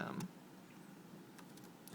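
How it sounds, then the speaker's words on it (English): Light key taps on a MacBook Pro Retina keyboard, a few soft, sparse clicks close by and quiet against a faint background hiss. "so I'm typing chats at people"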